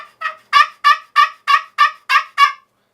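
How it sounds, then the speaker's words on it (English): Eight sharp, evenly spaced squawks from a glass turkey call ring out loud and close, each a raspy yelp with nothing else around. "So I'm going to just show you a squawk here on the glass call."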